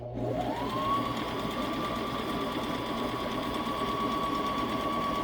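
Sewing machine stitching a wool diaper cover, a steady close mechanical whir that ramps up briefly at the start and then holds an even, continuous hum without pause.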